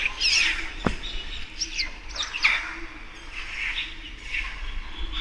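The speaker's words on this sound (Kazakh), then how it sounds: "Қарғалар тынбайды ғой" Crows call repeatedly in the open air near Akmeshit cave outside Shymkent, their harsh, fairly near cries coming in short bursts over a steady outdoor hiss.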